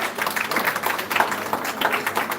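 An audience applauds a guidance counselor being honored in Jamaica, with steady, dense clapping throughout the short burst and no voices over it.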